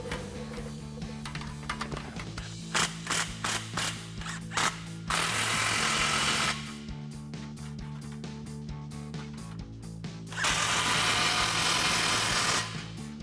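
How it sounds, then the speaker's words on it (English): A ratchet with a 15mm socket tightening exhaust clamps on a 2024-2025 Mustang GT Borla S-Type cat-back system, rapid clicking bursts close by, interrupted by louder rushing noise in two stretches. "we're going to take a 15mm socket and tighten those down."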